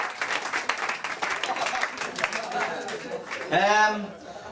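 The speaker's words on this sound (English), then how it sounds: "Big round of applause, please, for Joe and Frank." Applause from an audience at a football club presentation night, a dense steady patter of clapping that runs for several seconds before a voice speaks over its tail.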